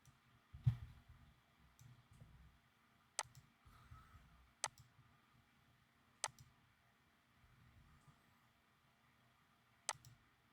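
A computer mouse clicks four times at uneven intervals over a quiet background while a virtual machine is being set up, each click sharp, brief and close.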